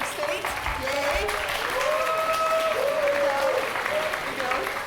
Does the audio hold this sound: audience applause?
yes